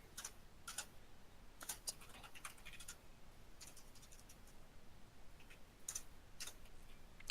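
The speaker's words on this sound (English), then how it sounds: "typing's terrible today" Typing on a computer keyboard during a tabletop game session, with irregular bursts of clicking keys coming in quick clusters and pauses, fairly close and quiet, no talk over it.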